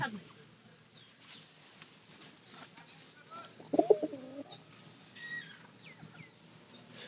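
A thin domestic pigeon, off its food for days, gives soft low cooing murmurs, faint and intermittent under nearby voices and background rustle.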